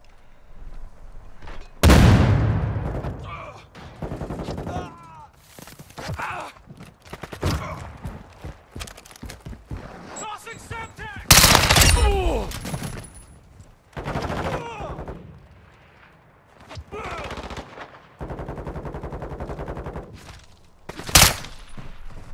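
Call of Duty gunfire, with sharp loud bursts of rifle shots and automatic fire plus booming blasts scattered through a busy firefight, and game voice callouts heard between the shots.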